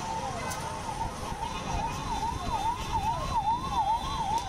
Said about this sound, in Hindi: और ये एम्बुलेंस जा रही है।